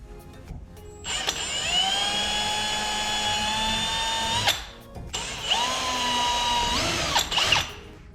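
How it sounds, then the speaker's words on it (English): A power drill bores pilot holes into a Perception Outlaw 11.5 kayak near an ABS strip, in two close, loud bursts of steady motor whine, each spinning up and winding down over several seconds. "Let's go ahead and drill some pilots and get that sucker in."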